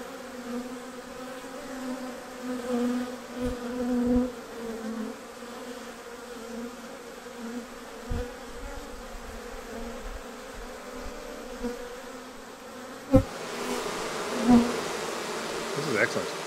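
Honeybees scenting at an opened hive with the feeder rim removed make a steady, close buzzing drone that hums continuously, rising into a louder, busier swarm sound near the end, with a few light knocks.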